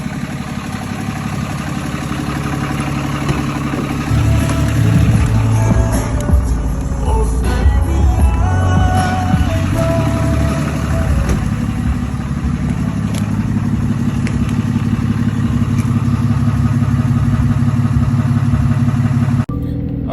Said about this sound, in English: Today we start off with a cold start on the new exhaust.